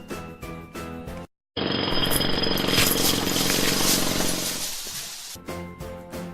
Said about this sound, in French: La prochaine étape est bien sûr des marteaux piqueurs.